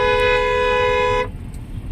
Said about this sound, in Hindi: मैं इनको हॉर्न लेके इनको ओवरटेक कर लूंगा